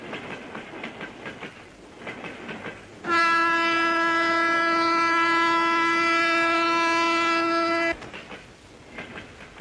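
A passenger train rolls along with a rhythmic rattle, and a long, steady horn blast sounds loud and close for about five seconds before the clatter of the wheels returns.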